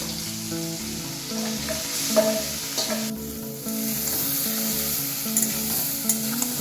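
Marinated small fish and mixed vegetables go into a hot pan, and a loud continuous sizzle follows with faint stirring and a few light knocks. Steady background music plays throughout.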